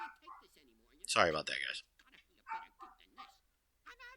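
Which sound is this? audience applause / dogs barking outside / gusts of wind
dogs barking outside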